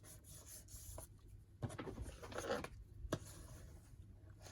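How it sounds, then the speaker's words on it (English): Paper ephemera being burnished down by hand from behind onto a craft page, giving soft intermittent rubbing and scraping strokes, close and quiet, in short bursts with pauses between them. "I'm going to really burnish that down from behind."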